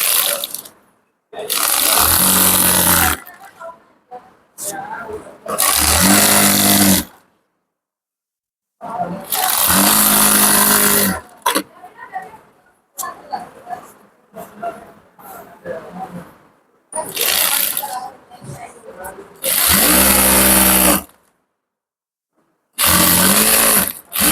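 A sewing machine stitches a waistband onto a ladies' pant in several loud, close bursts of rapid whirring, each lasting a second or two and separated by near-silent pauses with faint handling noises.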